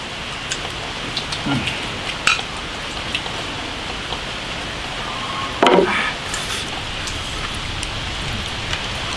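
Steady rain falls outdoors in a continuous, even hiss, broken by two brief louder knocks; no one speaks.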